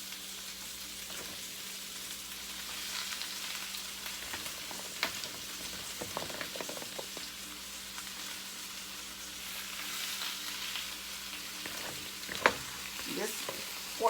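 Cabbage fries in a cast iron skillet with a steady, even sizzle and occasional soft stirring clicks, moderately quiet and continuous throughout.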